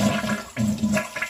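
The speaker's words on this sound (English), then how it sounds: "And now just flush the toilet" A bathroom toilet is flushed, close and loud, with a rushing gurgle of draining water in uneven surges that lasts about a second.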